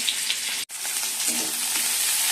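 Chicken pieces frying in a pan give off a steady, loud sizzle with a brief break partway through, then the crackling resumes.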